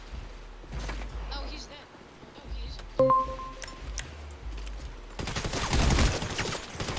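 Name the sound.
gunfire in GTA 5 FiveM roleplay video game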